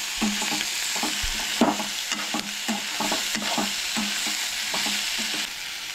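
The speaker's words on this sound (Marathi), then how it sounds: "हे बरें मिक्स करून बरें परतून घेवंक जाय. बरें तळसळून घेवंक जाय." Tomato and beans being stirred and sautéed in a pan, rhythmic scraping strokes over a steady sizzle, close and moderately loud with no talking.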